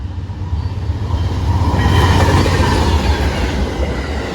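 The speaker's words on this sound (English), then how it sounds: "this is my last train of the day" A train rolls past on a rail line at Bayview Road in Blasdell, New York, a loud close rumble with clattering wheels that swells mid-pass, with a hint of rain.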